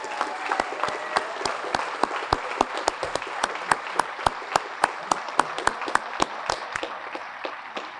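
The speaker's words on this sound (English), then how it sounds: "How about a round of applause for Waldo Perez?" Audience at an Edinburg firefighters' awards banquet applauds an honoree for 35 years of service, moderate clapping with one or two sharp, evenly spaced claps standing out steadily above the rest before stopping.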